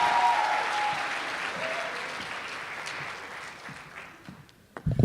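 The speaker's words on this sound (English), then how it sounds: "Give them a round of applause one more time, please" A concert audience gives a sustained round of applause, loud and dense at first, then slowly thinning and fading away before a few sharp sounds at the very end.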